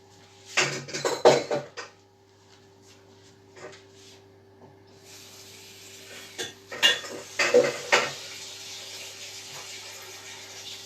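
Dishes, pans and cutlery clatter and clink in a kitchen during cleanup after baking gougères and a brownie, in two bursts of clattering separated by quieter handling, with running water or sink noise in the background.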